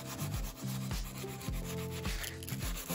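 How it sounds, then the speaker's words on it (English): A plexiglass edge is rubbed by hand with 150 grit sandpaper in quick, rhythmic back-and-forth strokes, a close, scratchy rasping repeated steadily with no talking. "I'm gonna do the sides too, just with the 150."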